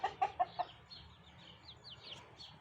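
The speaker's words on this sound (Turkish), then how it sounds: "Bakın bu da anne tavuk ve yavruları." A mother hen gives four close, distinct clucks, then her nine chicks keep up faint, high, scattered peeping in the background.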